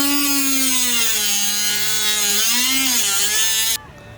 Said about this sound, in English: use a Dremel